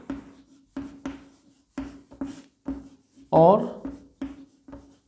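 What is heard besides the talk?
teacher writing on the board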